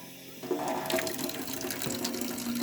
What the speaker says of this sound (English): now I go and turn on the cold water